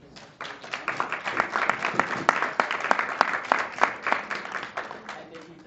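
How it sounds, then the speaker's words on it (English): An audience at a 2014 Scarborough community meeting on the Toronto budget breaks into dense, sustained applause for the speakers. The many overlapping hand claps are fairly close, building quickly and holding steady for several seconds. "let's give another round of applause for our speakers"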